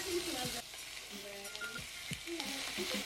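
Ground beef with minced ginger and garlic browning in a hot pan, a steady close sizzle with occasional stirring scrapes, faint background voices and tonal sounds mixed in.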